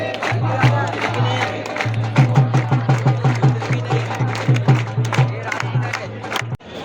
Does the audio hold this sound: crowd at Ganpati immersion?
yes